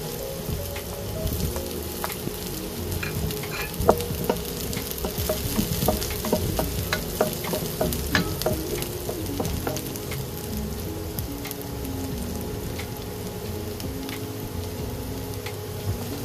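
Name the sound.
onion and garlic frying in a pan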